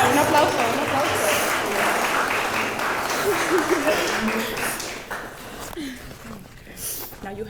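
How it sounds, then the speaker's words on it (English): Wedding guests clap for the groom in a sustained, dense round of applause, with cheering voices and excited chatter mixed through it before the clapping thins toward the end. "let's get a round of applause for the groom, everybody"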